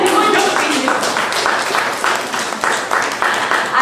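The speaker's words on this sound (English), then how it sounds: "You can clap to that" An audience at a book launch breaks into applause, dense steady clapping that holds at full strength throughout, close and loud, with the crowd murmuring underneath.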